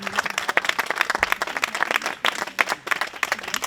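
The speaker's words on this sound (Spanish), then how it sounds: "Luis me ha pisado el aplauso que iba a solicitar para los hermanos Clemente de la empresa Ferrocle" Audience applause for the Clemente brothers of Ferrocle, makers of the monoliths, at the Aragonese Book Fair in Monzón, with sharp individual claps standing out in an uneven, moderately close patter.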